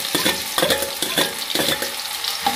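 Chopped onion frying in oil in a home kitchen pan while a spoon stirs it, giving a steady close sizzle broken by repeated scraping strokes in an even rhythm, with no voices.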